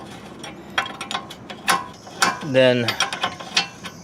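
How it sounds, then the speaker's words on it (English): Ratchet wrench turning a tie rod nut on a 2009 Hyundai Santa Fe, short bursts of rapid clicking between a few metallic clanks, close by, with one brief spoken word. "So now I can remove this nut all the way."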